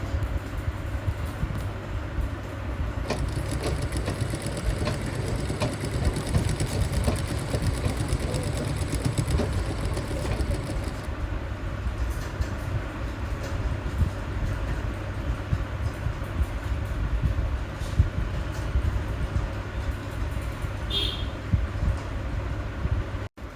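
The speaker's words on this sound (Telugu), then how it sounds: "క్లాత్ ఫోల్డ్ చేసి కుట్టేసుకోర్రి సేమ్ అలానే" A sewing machine stitches the folded cloth hem of a blouse, giving a fast, continuous mechanical whir and rapid needle rattle close by that runs unbroken for the whole stretch, without any talking.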